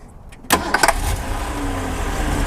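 A 1963 Lincoln Continental engine cranks and catches at once, then settles into a steady, close running rumble.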